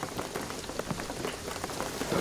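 Steady rain falls in the video game Shadow of the Tomb Raider, a dense, even patter of drops on surfaces with no pauses, fairly soft and continuous throughout.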